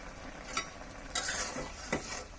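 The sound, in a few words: stirring broccoli curry with black pepper in pan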